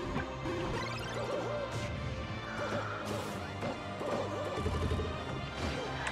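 Down smash and forward smash hits land in a Project M match between two Mario players, sharp crashing impacts ringing out over dense game music and effects, several hits spread through a loud, busy mix.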